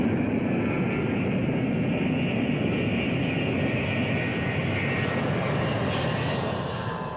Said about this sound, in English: We gave it the power, it took off